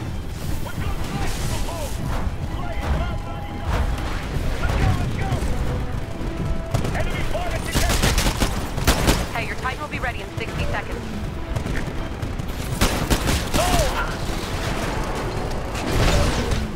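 Explosions and gunfire in the Titanfall video game, a dense continuous barrage of bangs, booms and mechanical clatter, loud and close throughout, with a voice talking over parts of it.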